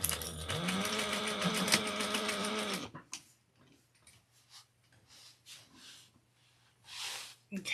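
A sewing machine basting fabric runs in a steady loud mechanical whir for about three seconds, then stops, leaving quiet rustling, clicks and handling of fabric and clips.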